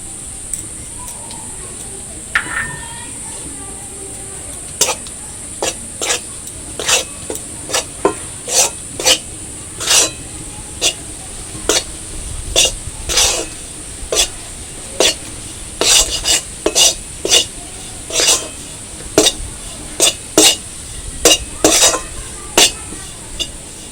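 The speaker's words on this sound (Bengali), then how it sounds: "ময়দাটা অনবরত নেড়ে যেতে হবে যাতে না লাল হয়ে বসে যায়" Flour cooking in ghee in a pan is stirred without pause, giving a fast, regular series of sharp scraping strokes over a steady sizzle, close and fairly loud.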